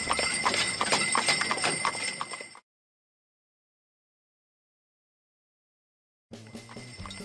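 Haflinger horse moving close by, with steady clip-clop of hooves and a busy outdoor bustle, cutting to silence for several seconds before resuming.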